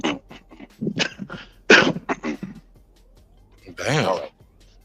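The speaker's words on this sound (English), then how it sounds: "I had to clear my throat" A man clears his throat during a boxing talk show discussion, giving several rough, raspy bursts close to the microphone, with a louder, more drawn-out throaty sound near the end and quiet gaps in between.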